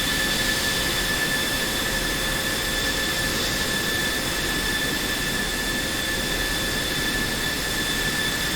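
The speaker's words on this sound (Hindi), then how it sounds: "शोर काफी ज्यादा हो रहा है इंजन का" An F-16C jet engine in the DCS World flight simulator runs with a steady, loud roar and high whine, unbroken and alone for the whole stretch.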